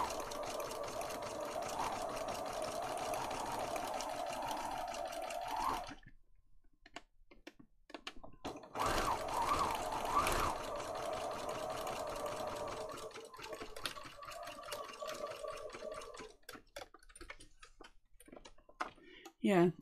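An electric sewing machine stitches through paper and fabric pages of a junk journal, a steady whirring run that stops for a few seconds, then resumes in shorter bursts, with a person talking at times.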